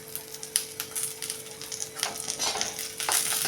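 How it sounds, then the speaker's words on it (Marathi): Okra and roasted peanuts stir-fried in a pan make a continuous close sizzle, with scraping, stirring clatter scattered throughout, swelling slightly louder toward the end. "आणि ह्या आता भेंडी आपण एकसारखी परतून घेऊया"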